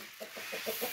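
Chickens clucking in a quick series of five short calls as they are fed on a concrete patch in a village yard, close and clear over a hissy background.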